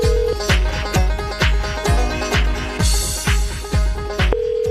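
A phone line rings in repeated regular pulses, each burst a bright electronic trill, loud and close, with a steady tone beneath.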